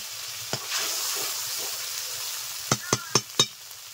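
A ground spice paste with dried red chilli fries in a pan for a Bengali katla fish curry: a continuous gentle sizzle, then a quick run of four sharp spoon clicks near the end.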